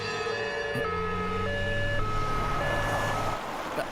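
A loud ambulance siren alternates between two tones in a steady hi-lo pattern, with a low traffic rumble underneath.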